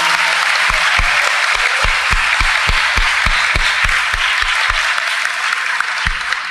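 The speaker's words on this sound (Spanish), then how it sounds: "Un aplauso sentido para ellos." Sustained audience applause at a school awards night honoring recognized primary students, a dense, loud wash of many hands clapping, with a few sharp individual claps standing out.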